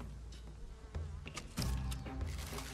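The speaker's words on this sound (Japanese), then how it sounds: "蜂出しちゃったせいで俺あそこ近づけないんだけど。" A swarm of bees buzzing after release in the video game Ghost of Tsushima, a steady droning hum that swells louder partway through, alone without talk.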